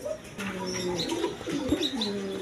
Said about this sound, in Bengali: দেখেন এক পেয়ার লক্ষা কবুতর আছে